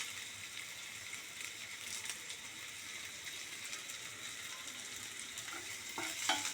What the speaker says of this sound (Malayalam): ഇതൊന്ന് സോട്ടാവുന്ന നേരം കൊണ്ട് ഇതിലേക്ക് കുറച്ച് കറിവേപ്പില,